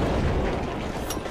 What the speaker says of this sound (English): I got to take the roof out. I don't have a rocket yet, though. All right, I got a rocket.